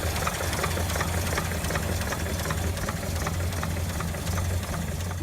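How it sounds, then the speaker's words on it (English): A vintage Delage D8 car engine running smoothly at a steady idle, close and loud, with an even low rumble and light mechanical ticking throughout. "Engine runs very nice,"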